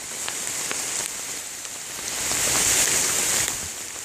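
Heavy winter rain pours steadily onto surfaces outdoors near an overhang, a dense constant hiss that swells slightly toward the end.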